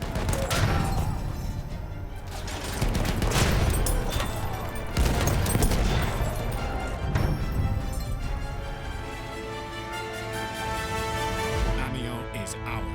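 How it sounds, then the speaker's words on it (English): Enemy machine gun firing in a Battlefield video game: repeated bursts of gunfire and crashing impacts amid battle noise, with voices talking over much of it. "There's an enemy machine gun."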